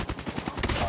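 A quick burst of rapid gunfire in Call of Duty Mobile, about a second of evenly spaced shots at moderate loudness with possible faint voice underneath.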